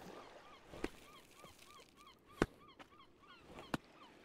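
A goose-like bird in a climbing video game honks repeatedly in short nasal calls, fairly quiet, with a few sharp louder thumps scattered among them.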